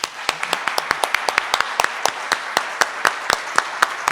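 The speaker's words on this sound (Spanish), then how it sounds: "también pido un fuerte aplauso" Lively applause at a master class event in Mexico, with close, crisp individual claps ringing out over a background of many hands, fairly loud and continuous for several seconds.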